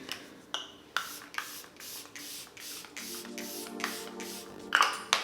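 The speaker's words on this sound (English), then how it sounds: "Set with setting spray, the Charlotte Tilbury." Charlotte Tilbury setting spray misted onto a face in a run of short, evenly spaced hissing bursts, close and alone, with faint handling rustle between the sprays.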